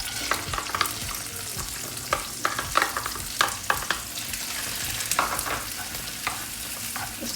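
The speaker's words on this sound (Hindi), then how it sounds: "ऑयल गर्म हो गया। अब सबसे पहले हम इसमें अपनी ग्रीन चिली डाल देंगे।" Green chilies frying in hot oil with butter in a pan, the base for Turkish menemen: a steady broadband sizzle with repeated stirring scrapes and clicks throughout, close and fairly loud.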